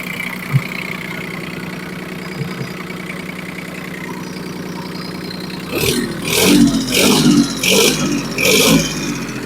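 A Yanmar AF-180 small two-axle tractor with power steering idles with a steady low diesel rumble, then its engine revs up in several loud, rough surges close by.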